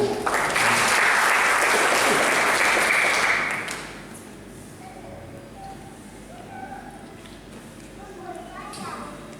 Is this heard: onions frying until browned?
no